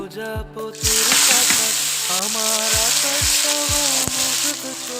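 Bay leaf, cumin and coriander dropped into hot mustard oil in a kadai burst into a loud, close sizzle after a brief quiet start, with clinks of a utensil and a faint musical tone underneath.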